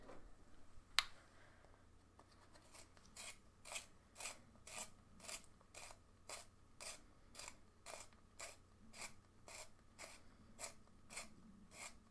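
A broken pencil point is sharpened, giving a steady run of about twenty quiet, close, rhythmic grinding scrapes spaced evenly after one sharp click.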